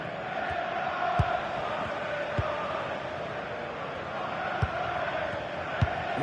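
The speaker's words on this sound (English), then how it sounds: "The crowd certainly think so. Just listen to them." Stadium crowd noise in the football video game FC26 at a Heart of Midlothian Scottish Premiership match: a steady, dense roar of spectators sustained throughout, with a few brief sharp thumps rising above it.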